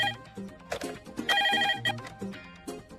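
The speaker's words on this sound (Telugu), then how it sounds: "ఫోన్ చూడు." A phone rings with a melodic electronic tone, repeating short bursts of ringtone notes that come and go, fairly close and clear over quiet background sounds.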